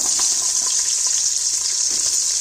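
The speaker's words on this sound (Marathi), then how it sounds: "जो आपण कांदा चिरून घेतला होता ना तो कांदा पण याच्यामध्ये टाकून घ्यायचा" Chopped onion dropped into spices frying in a pan while cooking veg pulao, giving a loud, steady, continuous sizzle throughout.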